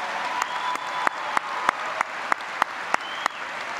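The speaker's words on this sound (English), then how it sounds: "Let's give our talented musicians a round of applause" Applause at a high school commencement for the school's musicians: a soft, steady crowd clapping bed, with a series of sharper, louder individual claps cutting through it at a regular pace.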